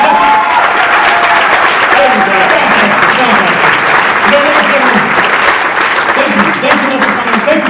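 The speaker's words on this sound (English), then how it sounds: "Give them a big round of applause." Loud, sustained audience applause closing a comedy show, steady dense clapping from a crowd with cheers and voices mixed in throughout.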